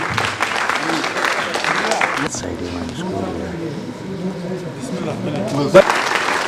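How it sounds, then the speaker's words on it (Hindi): At an awards felicitation ceremony, a crowd claps in a brisk burst that gives way to ongoing talk, with a voice speaking over and after the clapping. "मैं आबिद साहब से गुजारिश करूंगा कि भरपूर तालियां हो जाए"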